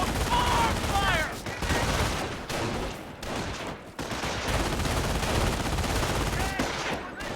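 Rapid bursts of small-arms and machine-gun fire as squads engage an enemy patrol in the Company of Heroes video game, loud and continuous, with shouted voice lines mixed in.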